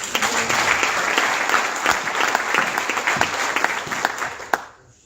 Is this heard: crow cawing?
no